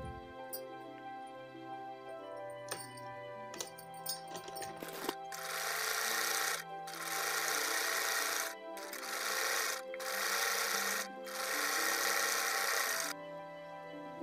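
An electric sewing machine stitches a suit in several sustained bursts separated by short pauses. Each run is a steady, buzzing whir heard up close, with no talking.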